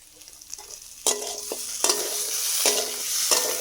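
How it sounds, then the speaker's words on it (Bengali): Egg and potatoes fry in a pan in a village kitchen, a close, rising sizzle broken by several scraping stirs of a utensil against the pan. "তো দেখতে পাচ্ছ এখানে সুন্দর করে লাল লাল করে ভাজা হচ্ছে"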